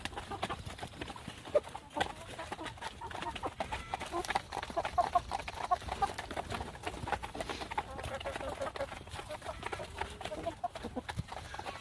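Freedom Ranger meat chickens cluck continuously while pecking at tomatoes and squash, a busy, dense chatter of many birds close by, mixed with rustling, scratching and outdoor noise throughout.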